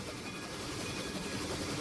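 RO-scale model train running along its track in a sandbox layout, a faint steady rolling rumble with soft rhythmic clicking of wheels over rail joints, continuous and even with no voices.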